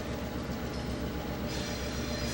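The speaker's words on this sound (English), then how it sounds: "Railroad locomotive here says R.J. Corman Railroad." An R.J. Corman Railroad locomotive and train rolling through Dover, Ohio, give a steady, loud rumble of wheels and cars that continues unbroken with no one speaking.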